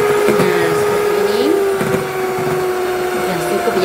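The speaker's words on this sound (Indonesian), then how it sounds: "di sini saya menggunakan mixer. Ini saya mixer sampai mengental sekitar 5 menit ya." An electric hand mixer whips cake batter without leavening until it thickens, giving a steady, loud whirring motor drone that holds an even pitch throughout.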